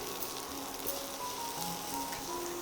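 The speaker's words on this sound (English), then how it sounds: "saute it for around 2 to 3 minutes till it becomes soft and mushy" Chopped tomatoes, garlic cloves and a small piece of ginger sizzle steadily in a hot pan, a soft continuous frying hiss with faint crackles and no talking.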